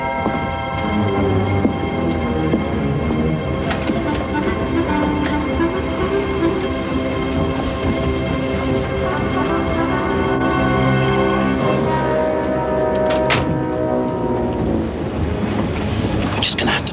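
A train rumbles along continuously with a steady, droning rattle and wind noise, loud and close throughout, with a few brief clanks near the end.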